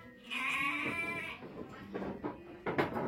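A Garut sheep bleats in one long, wavering cry near the start, followed by quieter shorter bleats and animal stirring close by. No one speaks.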